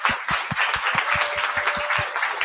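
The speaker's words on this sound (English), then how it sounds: "Let's give them a round of applause." An audience at an annual celebration and awards evening gives a round of applause, with claps landing in a quick, even, rhythmic pattern that sounds fairly close.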